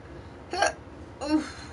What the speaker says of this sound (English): I got these hiccups like crazy.